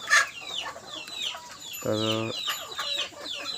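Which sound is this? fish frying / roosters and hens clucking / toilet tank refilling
roosters and hens clucking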